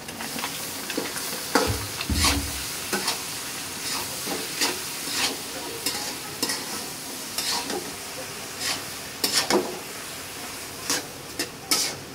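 Spices tempered in hot oil in a pan for fried bottle gourd with egg give a steady close sizzle and hiss, broken by irregular scraping stir strokes, with faint voices now and then.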